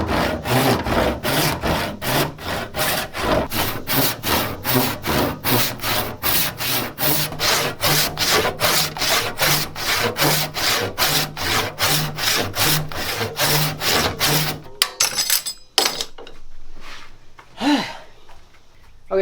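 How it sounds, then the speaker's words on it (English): A hand saw cutting through a wooden flintlock gun stock: steady, rhythmic back-and-forth strokes, close and fairly loud, about two strokes per second for most of the clip, followed by scraping and handling noises as the sawing stops. "So I'm going to chuck it up over here and start sawing again."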